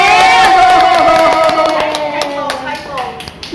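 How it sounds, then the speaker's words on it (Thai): A small group claps and cheers briefly during a motivational talk session, quick claps over voices and a woman's tonal exclamation, close and loud. "ปรบมือเย้"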